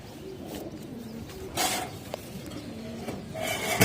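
Soft, low cooing from a large high-flyer Chuina female pigeon comes in a few short, faint phrases. Scattered brief rustling bursts sit over a steady background hiss.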